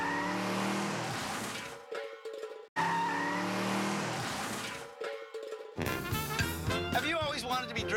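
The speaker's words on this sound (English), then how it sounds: "Canada's worst drivers ever take our limousine on a high-speed slalom run" A limousine's tires squeal and skid through a high-speed slalom run, loud bursts of screeching broken by abrupt silences, followed by engine roar with voices under it.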